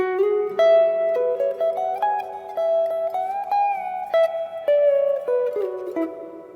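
An electric guitar plays a melodic phrase from a solo of 9/16/90, with bends and sliding notes, clean and alone, each note ringing into the next.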